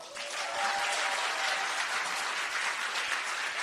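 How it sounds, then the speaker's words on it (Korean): Audience applause fills a hall during a political talk to lawmakers, a steady dense wash of many hands clapping that holds at full strength throughout, with no voices over it. "다시 한번 박수 쳐주세요."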